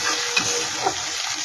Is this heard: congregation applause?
no